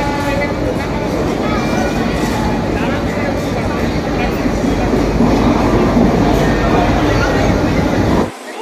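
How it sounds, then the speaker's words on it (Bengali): A train pulls into a station, its steady loud rumble and rolling rail noise filling the scene continuously before cutting off abruptly near the end; people talk faintly underneath. "এই যে দেখতে পাচ্ছ আমাদের ট্রেন চলে এসছে"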